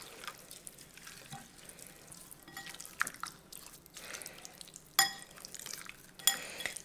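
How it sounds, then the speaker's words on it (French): Fish marinade stirred in a dish, with a utensil scraping and clinking against it in uneven strokes and two sharper knocks near the end, close and fairly quiet, with no talking. "donc là maintenant je vais mélanger cette marinade"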